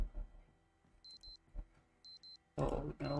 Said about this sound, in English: there's a watch here that has the alarm